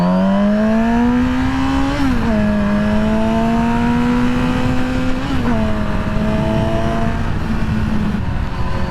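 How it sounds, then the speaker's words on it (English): Kawasaki Z900RS motorcycle exhaust revving loudly and close up, a steady drone rising in pitch with two sharp throttle blips around the middle, no talking. "Let's hear this exhaust."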